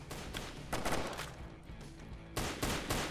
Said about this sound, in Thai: ปืนตะปู